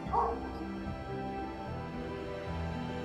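A dog in Liverpool, Nova Scotia gives a sharp bark, then whines and yips steadily at moderate distance.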